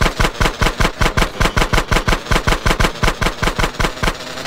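Automatic gunfire from GTA San Andreas rattles in a loud, rapid, evenly spaced burst of about two dozen shots, close and sustained with no pause and no talking.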